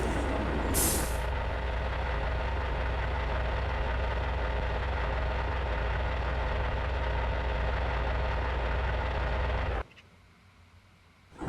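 A vehicle engine idles steadily at a petrol pump, a loud continuous rumble that cuts off abruptly near the end, leaving quiet background.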